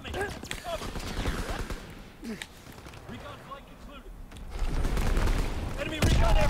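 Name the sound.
grenade explosions in Call of Duty WW2 video game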